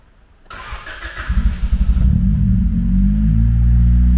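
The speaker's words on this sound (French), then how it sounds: "Et la voiture redémarre." A Honda EJ1 car running a Speeduino OBD1 setup with big injectors and R8 coils cranks briefly, then catches and settles into a loud, steady, close idle with a deep rumble.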